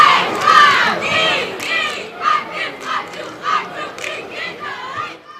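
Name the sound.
cheerleaders cheering at a high school football game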